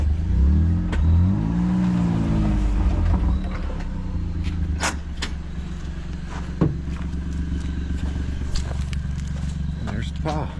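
A vehicle pulls away after dumping a load from a Sweep All, its engine revving and rolling off while a voice talks over it and footsteps and light clatter sound nearby.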